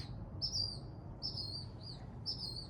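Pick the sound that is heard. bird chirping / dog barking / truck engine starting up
bird chirping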